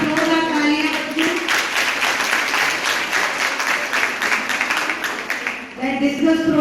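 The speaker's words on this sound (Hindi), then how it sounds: "एक बार जोरदार तालियां बच्चों।" Crowd at an annual sports meet prize distribution gives loud, sustained applause for the winners, a dense wash of clapping framed by a voice at the start and end.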